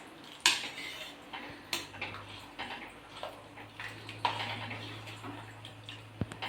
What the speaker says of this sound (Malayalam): ആ അട ഈ ശർക്കരയായിട്ട് ചേർന്ന് നന്നായിട്ട് തിളച്ച് വെന്ത് കുറുകി വരുവാണ്.